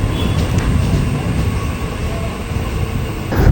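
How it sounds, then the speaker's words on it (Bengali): A Ranaghat–Gede local train pulls away from Harishnagar Halt station on Indian Railways, a steady close rumble of wheels and carriages rolling on the rails, growing slightly louder toward the end. "তোমরা দেখতে পাচ্ছ আমাদের Ranaghat Gede local Harishnagar halt rail station থেকে ডিপার্চার নিয়ে নিচ্ছে"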